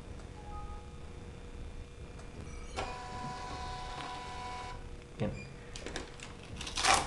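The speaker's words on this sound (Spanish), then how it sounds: "digito el documento de identificación del visitante y voy a imprimir el tiquete." A visitor-ticket printer for an access control system runs at a moderate level, a few short mechanical feed and print bursts against quiet room tone, with no one talking.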